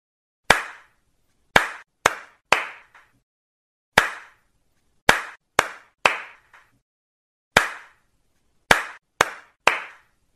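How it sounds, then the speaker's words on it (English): Sharp single hand claps in short groups, one then several in quick succession, separated by silent gaps, crisp and close. "count my claps"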